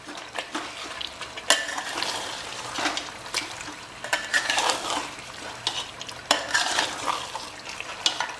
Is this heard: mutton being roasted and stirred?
yes